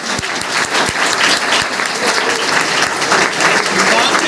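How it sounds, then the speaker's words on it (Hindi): An audience at a road safety awareness programme in a Lucknow school claps hard and without a break, loud and close, with a few crowd voices mixed in. "प्लीज़ मेरे लिए भी जोरदार तालियां"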